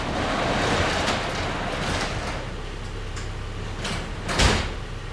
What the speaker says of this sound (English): Garage door closed.